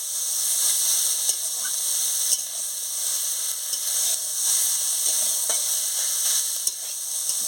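Sliced banana stem sizzles and hisses steadily as it is stirred and fried dry in a pan, with occasional soft scrapes of the spoon; no talking.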